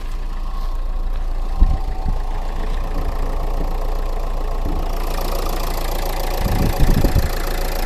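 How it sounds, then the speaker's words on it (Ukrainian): Keyless-started 2014 Renault Megane engine idling steadily with a low, even rumble, a few soft knocks and thumps over the continuous hum, loud and close throughout. "Нажали просто кнопку старт і двигун завівся."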